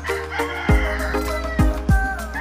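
Several roosters crow loudly close by on a farm holding imported gamefowl lines, three sharp cock-a-doodle-doo calls rising over a constant backdrop of clucking chickens.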